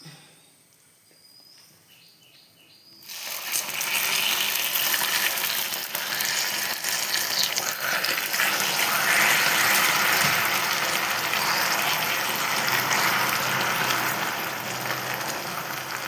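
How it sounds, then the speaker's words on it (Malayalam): Water poured into caramelized sugar in a pan over a low flame, a sudden loud hissing, bubbling rush that starts abruptly after a quiet moment and continues steadily. "നമുക്കിതിലേക്ക് സിമ്മിലാക്കിയിട്ട് കുറച്ച് വെള്ളം ഒഴിച്ച് കൊടുക്കാം"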